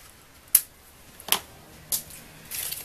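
Scissors snip a knotted cord three times in sharp, isolated cuts spaced about half a second apart, close and fairly quiet, followed by a soft rustle of handling.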